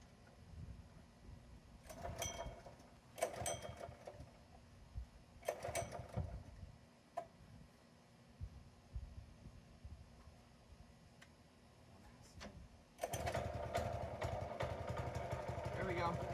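A small gas engine on a lawn core aerator sputters and coughs through a few start-up bursts, then settles into a steady running hum; a person speaks in between.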